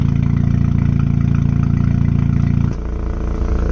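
An Audi with a homemade exhaust idles with its valves open, a loud, steady, throbbing low rumble that drops to a softer tone near the end.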